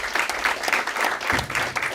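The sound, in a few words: audience applause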